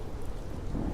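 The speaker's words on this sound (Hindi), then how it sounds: "सतीश को पेड़ों के पत्तों पर गिरती बारिश की बूंदों के अलावा कुछ भी सुनाई नहीं दे रहा था।" Steady rain pours with low rumbling thunder underneath, a dense and continuous stormy wash of sound for a horror tale set on a haunted highway through a forest.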